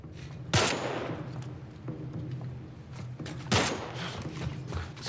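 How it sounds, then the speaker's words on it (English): Bursts of gunfire ring out inside The Last of Us Part 1 video game, two sharp volleys about three seconds apart over a steady low rumble, with scattered distant pops in between. "Like they're shooting at someone in there."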